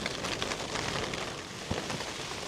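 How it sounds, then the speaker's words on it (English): Steady rain falls and patters on a surface near a hut by a tarn at Bowscale, a soft, continuous hiss with scattered drops and no talking. "Button down the hatches and here comes the rain."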